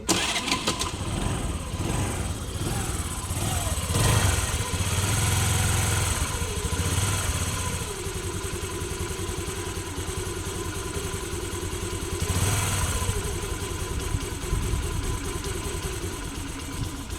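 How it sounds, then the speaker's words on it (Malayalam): A vehicle engine cranks and fires up, revs briefly, then settles into a steady idle with a couple of short revs. "നിങ്ങൾക്ക് ജസ്റ്റ് ഒന്ന് സ്റ്റാർട്ടാക്കി സൗണ്ട് ഒന്ന് കേട്ടു"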